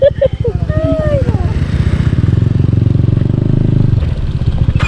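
A Yamaha NMAX scooter rides off-road on a Palawan trail, its engine droning steadily with clattering and rattling over rough ground, close and loud, while voices talk and exclaim over it.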